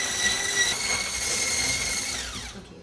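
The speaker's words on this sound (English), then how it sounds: "I'm going to give it another maybe half a minute of whisking" An electric whisk whirs steadily through egg yolks and caster sugar in a bowl, a loud continuous motor drone with a faint tonal whine that tapers off near the end.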